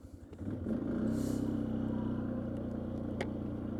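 A 1999 Polaris Sportsman 500 ATV with a 498cc single-cylinder engine pulls away in high range and two-wheel drive, its engine rising to a steady, close, low drone with some light clatter.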